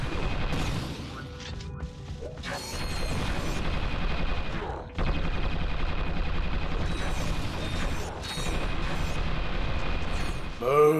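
Mini turret gunfire in the Ratchet and Clank 2: Going Commando video game: dense, loud bursts of shots and crashing impacts, layered with game music and effects, running continuously through the stretch.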